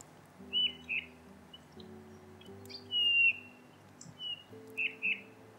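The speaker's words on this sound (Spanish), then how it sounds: "Estamos conociendo muchas cosas del camachuelo, lo estamos viendo también, vamos a escucharlo" Eurasian bullfinch song, soft, sparse whistled notes repeated in short phrases against a quiet outdoor background with a low steady hum.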